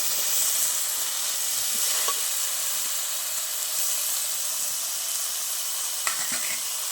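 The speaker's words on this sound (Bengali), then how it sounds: "এবার আমি সিদ্ধ করে রাখা বাঁশের কোড়গুলো দিয়ে দেবো এতে।" Boiled bamboo shoots land in a pan of hot, well-fried spice paste, giving a steady, loud broadband sizzle that holds for the whole stretch. There are a few faint stirring scrapes and a sharper clatter near the end, and nobody talks.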